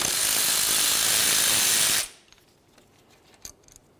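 A ratchet turns a 14mm brake caliper slider bolt on a 2004-2015 Nissan Titan front brake, giving a loud, steady whirring rush for about two seconds that cuts off abruptly, followed by a few faint metallic clicks and taps.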